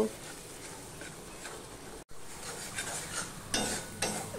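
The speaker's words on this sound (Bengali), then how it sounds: "দিয়ে আমি পেস্টটাকেও ভালো করে ভেজে নেব।" A spice paste sizzles quietly in oil in a pan while a spoon scrapes and stirs, with brief clinks near the end.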